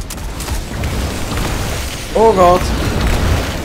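Blinding, slowing rockets bursting in the Destiny 2 shooter, heavy low booms rumbling throughout, with a brief exclamation from a person about two seconds in.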